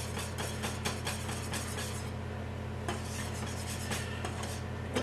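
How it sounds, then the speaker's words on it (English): Spoon stirring cheese into a mac and cheese sauce in a pot, with steady scraping and clinking strokes over a low cooking hiss, no talking. "I'm just going to stir this until it's all melted in"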